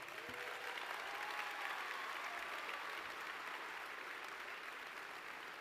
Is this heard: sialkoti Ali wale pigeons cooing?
no